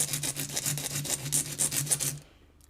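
Coarse 80-grit file rasping across a nail in a steady run of quick back-and-forth strokes, close and fairly loud, ending abruptly into near silence.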